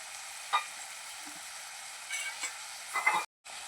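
Tomatoes sautéed with a little salt in a pan, a faint hiss with a few brief stirring scrapes and clatters spaced apart, close and quiet, ending in a sudden short silence.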